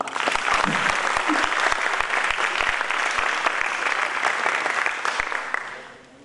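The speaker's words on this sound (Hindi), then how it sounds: "दिल खोल के ताली बजाओ" Sustained audience applause at a life-skills marketing seminar, a dense steady clapping from a large crowd lasting several seconds before fading out.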